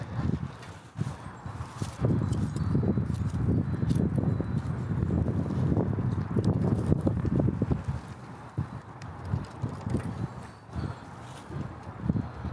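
Strong outdoor wind buffets the microphone while a sign moves and rattles in the gusts, mixed with rustling and irregular knocks, with a dog being walked on a leash nearby.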